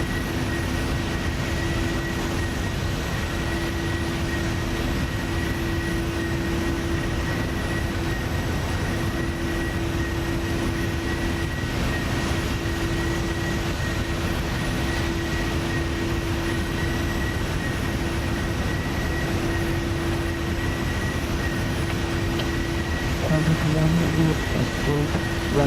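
Airliner taking off in the Prepar3D v4.2 flight simulator, a steady loud engine roar with a sustained whine running unbroken throughout, and a few faint voices near the end.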